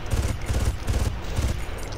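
Gunfire in Far Cry 1, a rapid burst of automatic shots in quick repeated pulses, loud and close, with no talking.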